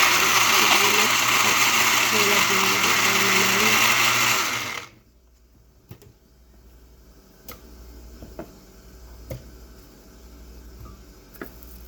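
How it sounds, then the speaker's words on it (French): A blender whirs loudly for about five seconds, mixing tomatoes, celery, parsley, coriander and onion, then cuts off abruptly, leaving a quiet room with a few light knocks and taps. "Dans un mixeur, je mets les tomates, le céleri, le persil, la coriandre et l'oignon, et je mélange le tout"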